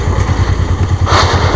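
A Karizma-R motorcycle engine runs steadily close by, with a low, even pulsing idle throb and a slight brighter rise in tone near the end.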